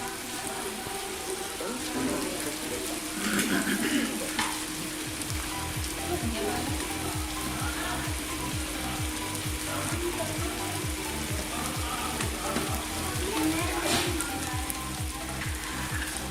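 Chicken karahi with whole uncut green chillies sizzling and frying steadily in a wok over high flame, a continuous crackling hiss close by with faint background noise.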